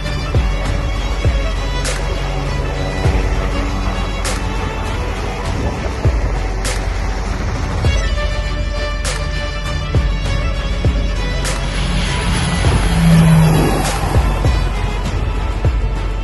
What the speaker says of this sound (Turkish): Akıncı B kalkışını başarıyla gerçekleştirdi.